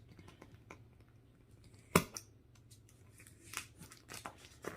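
Scissors snip through material in a series of crisp cuts, one sharper and louder than the rest, close up and quiet, with no talking.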